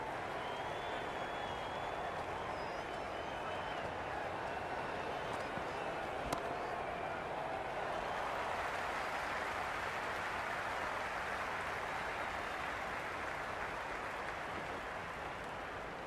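A large cricket crowd at a Sydney Sixers versus Guyana Amazon Warriors match roars and applauds continuously at a distance, a broad wash of cheering and clapping that swells slightly midway.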